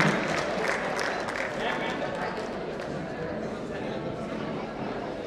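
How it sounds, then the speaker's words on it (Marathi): An audience applauds for the boys at a chess tournament prize ceremony, a dense, steady patter of many hands clapping that fades slightly over several seconds in an indoor hall. "सगळ्या बॉईजसाठी टाळ्या वाजवूयात आपण"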